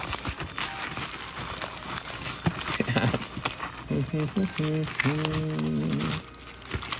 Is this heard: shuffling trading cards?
yes